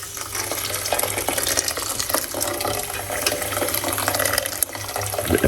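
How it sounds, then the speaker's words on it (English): Hot water poured over washed kidney beans in a pot while making Jamaican stewed beans, a steady close splashing pour that runs continuously with no talk. "See, I'm using some hot water inside of it."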